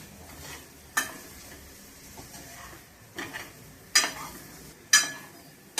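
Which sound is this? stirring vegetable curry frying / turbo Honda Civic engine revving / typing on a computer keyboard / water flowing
stirring vegetable curry frying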